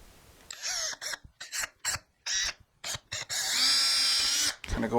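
A power drill drives a screw into a wooden drill press cart with a 1/2 inch back plate, heard as several short whirring bursts separated by pauses, then one longer sustained run near the end.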